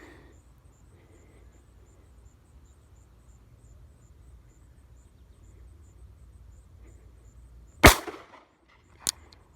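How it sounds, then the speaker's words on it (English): Two sharp reports from a Bearman Cobra .38 Special revolver fired one-handed outdoors, the first loud and close, the second a little softer about a second later, each breaking the quiet after a stretch of faint insect and ambient hum. "And I'm gonna shoot one-handed because I gotta film."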